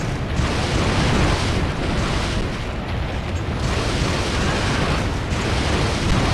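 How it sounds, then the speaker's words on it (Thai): In Monster Hunter Generations Ultimate, a monster's meteor attack explodes all around it: a dense, continuous roar of loud, close blasts and rumbling eruptions with no pauses. "ท่าปล่อยอุกกาบาตรอบตัวของฟ้าแดง แรงมากเลยนะ"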